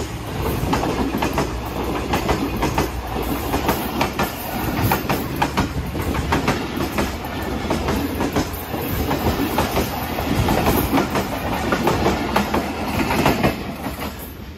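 A train passing on a curved stretch of track near Wazirabad, loud and steady throughout, with continuous rumble and rhythmic clickety-clack of wheels over rail joints, no voices.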